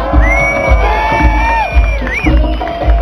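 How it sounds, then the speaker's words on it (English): A loud, close crowd cheers at a Budweiser girl pageant at the Indy race in Toronto, with high whoops and shouts rising over a dense roar of many voices. "Give them a big round of applause."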